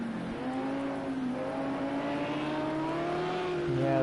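A race car engine in Project CARS 2 at the Nürburgring revs high and steady, its rising whine swelling gradually as it holds near full revs, with no voices over it.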